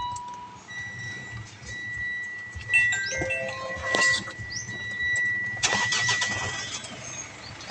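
Mitsubishi Strada Triton Mivec pickup engine revving, a moderate mid-pitched engine that rises and falls through a few throttle blips over a steady idle, with faint birds in the background.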